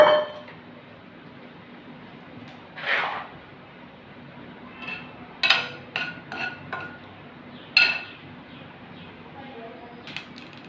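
Urad dal stirred into spluttering mustard seeds in a pan while making amla rice: scattered scrapes and metallic clinks of a spoon against the pan come in irregular bursts over a faint steady hum.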